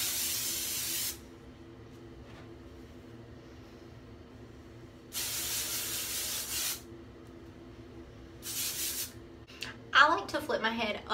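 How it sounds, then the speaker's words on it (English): Hairspray is sprayed onto hair in three separate bursts of bright, close hiss, with quiet gaps between them and some rustling at the end. "take your hairspray."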